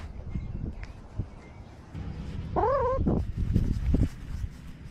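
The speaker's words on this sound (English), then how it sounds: "Kitties have friends." Cats meow on a livestream, one clear rising-and-falling call standing out near the middle over a background of low rumbling room noise and faint voices.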